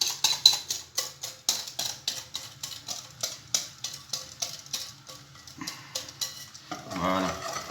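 A whisk or spoon beats pastry cream mixture in a bowl with a steady, rapid series of rhythmic scraping clinks against the side, close and clear, ending in a brief louder pour or swirl.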